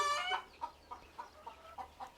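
Chickens clucking inside a farm poultry shed, a louder squawk at the start followed by a steady run of short, evenly spaced clucks at close range, with no voices.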